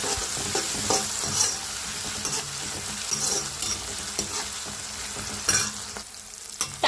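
Tomatoes, green chilies, onions and curry leaves fry in a pan with a steady sizzle, broken by irregular scraping clicks of a spoon stirring close by.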